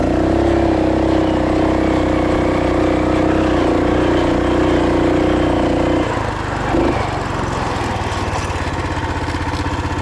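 A 2WD Roko Ranger off-road bike's engine drones loudly and steadily during a top-speed run across a field, holding a constant pitch before shifting and roughening near the end.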